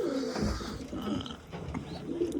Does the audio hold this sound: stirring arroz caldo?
no